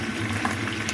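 Eggplant frying in a pan, a steady close hiss and crackle of hot oil running unbroken throughout, with no talking.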